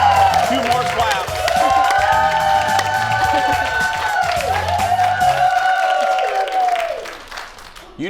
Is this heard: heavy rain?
no